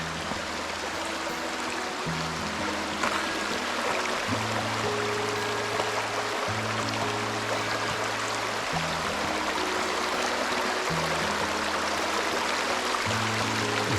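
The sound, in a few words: creek water flowing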